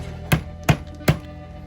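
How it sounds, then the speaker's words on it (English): Raw chicken breast pounded to an even thickness in a kitchen: three evenly spaced, dull, solid thumps about 0.4 seconds apart, close and fairly loud, with no talk. "all I'm going to do is try to pound these out just a little bit so that there's an even thickness across"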